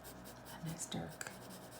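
An HB pencil shades on paper, making faint, soft scratching strokes in short bursts, with a quiet voice in the background.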